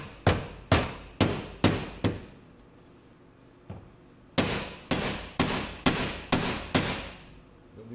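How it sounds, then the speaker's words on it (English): A hammer drives a rivet while fitting a Mud Buster mud flap to a Trail Rider 570, giving sharp close blows: five quick strikes, a pause with one lone hit, then six more in a steady rhythm. "Smack with a hammer."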